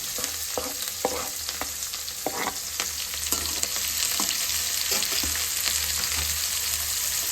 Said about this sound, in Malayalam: നമുക്കതിലേക്ക് അരിഞ്ഞു വെച്ചിരിക്കുന്ന സവാള പച്ചമുളക് ഇഞ്ചി വെളുത്തുള്ളി ഇട്ട് കൊടുക്കാം